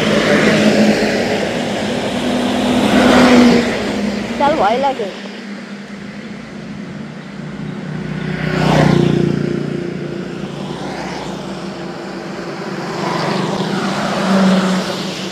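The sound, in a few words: heavy traffic, many cars passing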